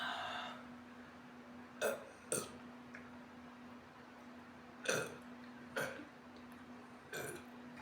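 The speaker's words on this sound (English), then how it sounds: "Monster doesn't make my burps so wet" Wet, gurgly burps after drinking Monster energy drink, five or six short separate bursts spaced a second or more apart over a low steady hum, with no talk between them.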